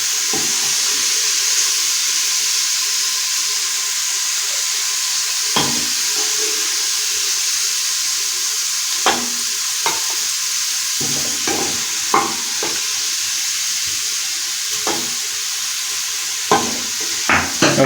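Browned onions and beef frying in a pot for biryani, a loud continuous sizzle with sharp scrapes of a spoon stirring at irregular intervals, close up and without talk.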